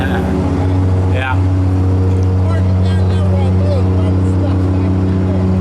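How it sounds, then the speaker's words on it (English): A lawn mower engine drones steadily outdoors in the woods, loud and close as it passes, its low hum running the whole time with a brief knock partway through. "My father-in-law is going by with his mower."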